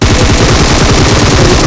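Continuous loud automatic gunfire from PUBG Mobile on the Ancient Temple map, a rapid unbroken stream of shots with no pauses.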